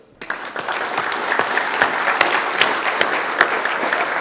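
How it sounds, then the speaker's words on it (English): A comedy show audience claps steadily and enthusiastically, a dense, even wash of applause that continues throughout without any talking. "Put your hands together and give a warm welcome to Vaughan Rivett."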